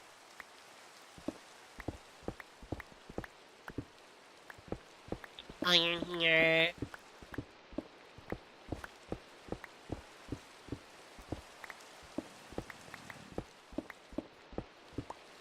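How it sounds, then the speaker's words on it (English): Rain falling in the Minecraft video game, sharp isolated droplet ticks pattering at a steady irregular pace throughout over a soft hiss, with a brief burst of game sound midway and a voice speaking briefly. "Was that a raindrop?"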